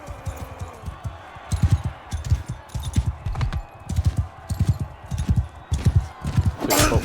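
Horse hooves clip-clop in Mount & Blade 2 Bannerlord, a steady galloping rhythm of loud, close thuds running the whole time, with faint background game noise beneath.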